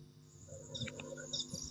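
Birds chirp faintly in the background, with scattered short high calls repeating in a soft, irregular pattern and no talking in the clip.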